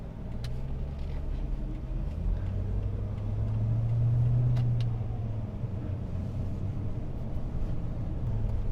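A Jeep Grand Cherokee WJ Overland's V8 engine runs in a low, steady rumble that swells slightly midway and then settles, heard alone at moderate volume.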